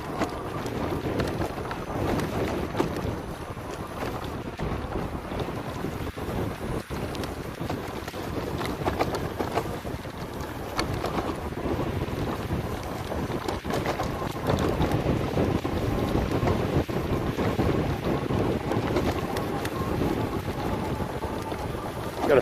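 Rad Power RadMini electric fat folding bike from 2018 ridden on throttle, with steady loud wind buffeting the microphone and a broad rushing roar that holds constant throughout the ride, no talking.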